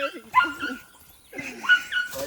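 A dog in a vegetable garden gives short yips and whimpering barks in two bursts separated by a brief quiet gap, close by, with people's voices mixed in.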